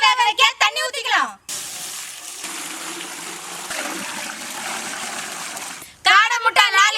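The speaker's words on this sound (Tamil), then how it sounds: "முட்டை வேக வைக்க தண்ணி ஊத்திக்கலாம்" Water pours steadily into a pot for boiling quail eggs, a continuous splashing rush for several seconds, with a voice talking just before and after.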